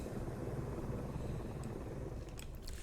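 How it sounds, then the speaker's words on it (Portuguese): Coast Guard helicopters fly over the flooded Guadalupe River in Texas, a continuous low rotor rumble heard from a distance with no talking. "Aí são helicópteros da Guarda Costeira"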